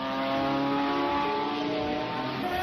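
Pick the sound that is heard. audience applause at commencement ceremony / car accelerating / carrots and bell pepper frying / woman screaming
car accelerating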